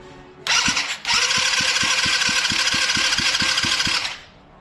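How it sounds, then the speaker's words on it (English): Drift quad engine cranking over in a rhythmic series of about fourteen even pulses, steady starter whir underneath, loud and close, then cutting out without catching. "we get a little bit of a crank over"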